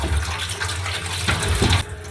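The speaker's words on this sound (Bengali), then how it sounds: "তারপর হচ্ছে চিড়াটা আমি ধুয়ে নিচ্ছি।" Flattened rice (chira) rinsed under a running tap, giving a steady, close splashing rush of water that carries on without a break.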